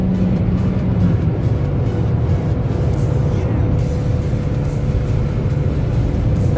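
Chevrolet Onix engine droning loudly from inside the cabin as the car speeds up on a straight road to pass another vehicle, a steady, continuous hum with road noise and little change in pitch.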